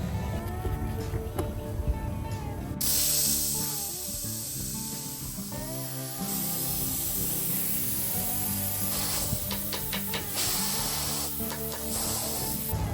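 Sandblasting gun spraying coarse sand while restoring a 40-plus-year-old Peterbilt frame rail, a steady broad hissing blast running loud and continuous for most of the stretch, with brief sputters and rattling bursts as the gun struggles to pick up the grit.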